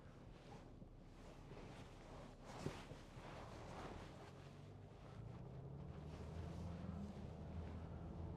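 A 2014 Range Rover 3.0 TD V6 diesel idles as a steady low rumble with breathy wind-like noise, a brief thump near the middle, and a low droning hum that grows slightly toward the end; no speech.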